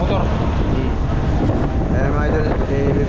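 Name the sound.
strong wind blowing on microphone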